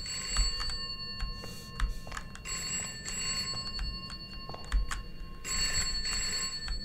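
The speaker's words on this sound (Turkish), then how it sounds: "Telefon buralardan bir yerden çalıyor." Old bell-style telephone ringing somewhere nearby in a horror video game set in a school, sounding in repeated bursts with short pauses between rings over a low background rumble.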